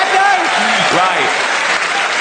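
A stand-up comedy audience breaks into loud, sustained applause with cheers mixed in, a dense wash of clapping that fills the room, while a few voices call out over it.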